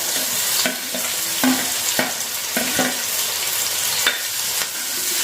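Sliced onions stir-fried in hot coconut oil for a Kerala pork fry, a steady close sizzle broken by repeated scraping stirs of a spatula against the pan, with no voices.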